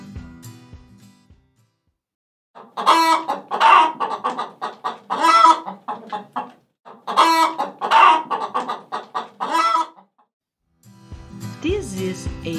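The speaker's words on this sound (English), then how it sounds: "This is a chicken." Chicken clucking in two close bursts of rapid, repeated clucks with a pause between, fairly loud and near, with softer farmyard noise at the start and end.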